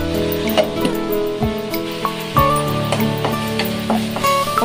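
Onion and tomato sizzle and fry in a pan for a fish curry, a steady close crackle broken by scrapes and knocks of a stirring spoon against the pan.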